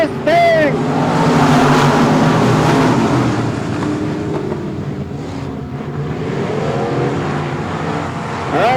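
Race cars at Texana Raceway Park roar off at the green flag and sweep past in loud, pitch-bending passes, with a commentator talking over the engines throughout.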